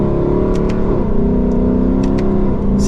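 A 2024 Lexus LC500 accelerating and shifting gears, the engine's steady mid-pitched drone rising and settling through a gear change, heard loud and close from inside the car with no talking.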